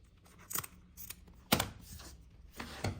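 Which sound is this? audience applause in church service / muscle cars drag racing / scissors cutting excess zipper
scissors cutting excess zipper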